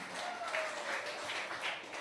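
An audience at a senior coronation pageant applauds, a soft, fairly distant patter of clapping lasting a couple of seconds, with faint voices underneath.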